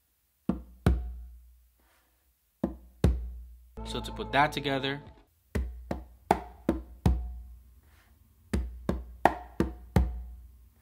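A Songo variation on two congas, finger strokes followed by bass strokes, plays as repeated groups of crisp close hand hits, with someone talking briefly between the groups.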